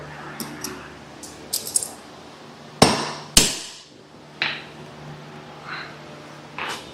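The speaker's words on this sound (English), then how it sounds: "Hammer it through." A hammer drives a replacement axle through in a garage: light metallic taps, then two loud ringing blows close together, then a few more spaced strikes.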